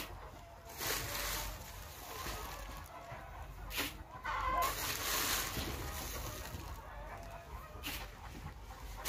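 Egg-laying hens cluck on and off at moderate distance over a steady background hiss from the poultry shed, with no other clear sounds standing out.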